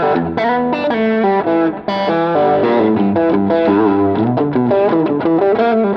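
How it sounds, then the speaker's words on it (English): A Fender Deluxe Nashville Telecaster on its middle pickup plays a loud, continuous run of distorted chords and notes, thick and saturated with a chorus-like sheen, with no talk over it. "Same distortion-wise, kind of an interesting sound. Not my favorite sound, the middle pickup."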